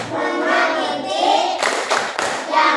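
Indonesian schoolchildren perform a rhythmic anti-bullying clapping routine. Voices chant throughout, and sharp group claps come in a quick burst near the end.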